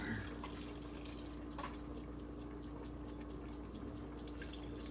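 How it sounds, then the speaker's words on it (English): Banana pepper vinegar pours from a jar into a pot for collard greens, a soft, steady trickle of liquid over a low constant background hum, faint and unbroken. "I'm going to pour half of this jar"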